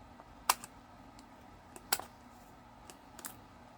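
Cardstock being trimmed with a paper trimmer, faint sharp clicks and slicing snaps at about 0.5, 1.9 and 3.3 seconds over a quiet room.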